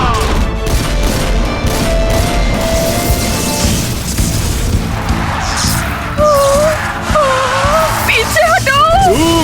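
A fireball attack in a Hindi children's cartoon about cars, heard as a loud, dense burst of explosive booms and crackling blasts. Animated voices and music run over the effect.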